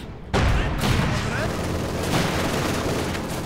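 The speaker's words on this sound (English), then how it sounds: "Taking a few hits there from the anti-tank rifles" Anti-tank rifle fire hitting a tank in Company of Heroes 2, a sudden loud crack followed by dense battle rumble and scattered shots, with a voice speaking over the din.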